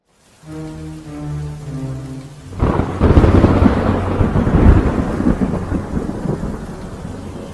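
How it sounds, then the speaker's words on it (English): A tonal musical note fades out before a heavy crack of thunder breaks and rolls on, with steady rain and gusting wind filling the rest of the stretch, loud and close. "Wind and rain buffeted Edward."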